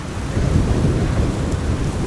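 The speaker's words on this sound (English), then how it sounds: "Well, there's rain falling right now as we speak." Rain pours down during a storm at Amsterdam Schiphol Airport, with a steady, dense hiss and a deep rumble beneath it. The sound is loud and continuous, and no voices are heard.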